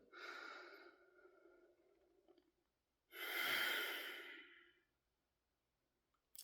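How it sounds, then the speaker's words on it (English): A slow, deliberate deep breath is drawn in, paused, then let out in a long audible exhale, close and quiet with silence around it. "take a deep breath on purpose"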